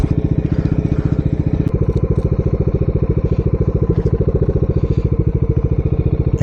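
A Bajaj Dominar 400 motorcycle engine runs close and loud, with a rapid, even thumping idle and a slight change in tone as it settles, and no talk.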